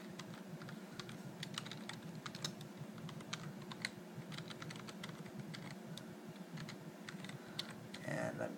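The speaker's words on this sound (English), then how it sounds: "Now I'm going to type in my username and password here." Rapid, irregular keystrokes on a computer keyboard as a username and password are typed in, steady clicking throughout with a slight burst near the end, fairly close and alone without talk.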